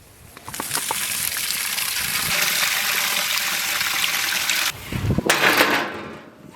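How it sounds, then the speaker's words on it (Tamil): Water gushes steadily as it is poured onto squid in a pot for boiling with ground turmeric and rock salt, a continuous loud splashing stream that breaks off briefly near the end before a final burst. "தண்ணி கொஞ்சம் ஊத்துனா தான் கனவா நல்லா அவியும்."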